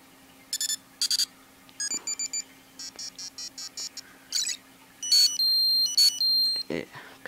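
A first-generation iPod Touch alarm clock tone through its built-in speaker: short electronic beeps and chirpy tone bursts, bright and tinny, in quick patterns with brief pauses, ending in a sustained two-tone pulsing beep.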